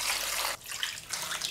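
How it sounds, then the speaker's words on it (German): Water pours from a tap over fruit in a bowl, a broad steady hiss of running liquid that briefly dips mid-way and resumes, close and alone. "ich mache noch 1 Liter, dass es alles schön im Wasser ist"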